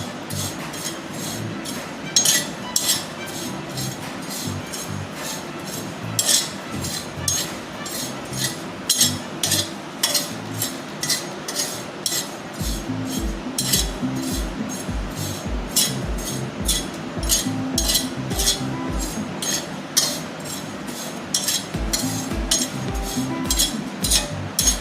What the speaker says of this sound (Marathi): तर आता ही तीळ भाजून घेते मी जरा। तीळ आपल्याला बिन तेल घालताच भाजायचं आहे।